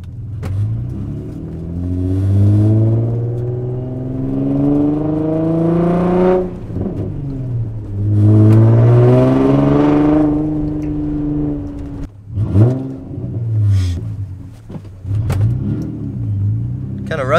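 A car nicknamed by its owner, driven after sitting unused for a week or two, pulls away and accelerates in long rising engine sweeps that repeat, close and loud, with a person talking intermittently over the motor.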